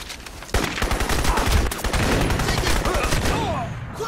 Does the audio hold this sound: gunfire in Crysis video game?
yes